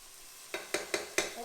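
Chopped onions sweating in a pan as the base for an asparagus risotto, with four sharp scraping stir strokes over a soft, steady sizzle, close and fairly loud.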